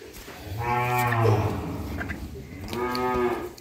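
Two long, loud moos from a local-breed dairy cow at a rural village home, each a drawn-out bellow lasting over a second with a short pause between them.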